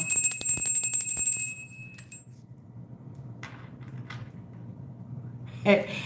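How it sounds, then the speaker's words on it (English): A bell rung during a live tarot reading chimes brightly and rings out for a second or two before fading to a quiet room, with a brief clatter near the end. "I'm going to use the bell."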